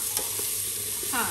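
Onions sizzle in hot oil in a pan for an Indian tadka, a steady close frying crackle with light stirring scrapes and a brief tonal clink near the end.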